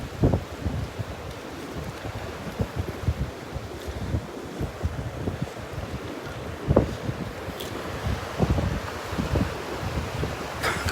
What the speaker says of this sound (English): the wind's coming off the Gulf this morning